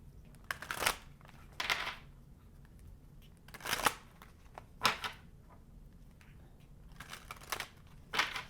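Cards shuffled in several quick riffling bursts with pauses between them, close and fairly quiet, no talking.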